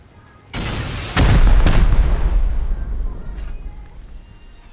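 Rocket launcher explosions in the Rust video game, a heavy booming blast followed by a second, louder detonation that rumbles deep and fades slowly over several seconds, close and powerful.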